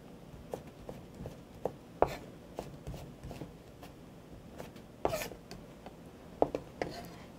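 A knife julienning doraji bellflower root into thin strips on a cutting board, with soft, irregular taps and a few sharper chops, close but quiet.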